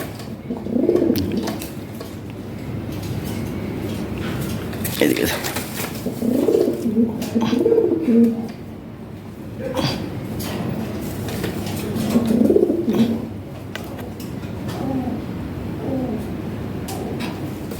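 Lahori Sirazi pigeons coo in repeated throaty bouts, close by, while someone talks over and between the calls.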